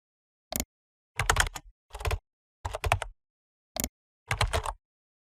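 Bursts of typing on a computer keyboard while writing an email, heard as several short clusters of close key clatter separated by brief pauses, with no voices.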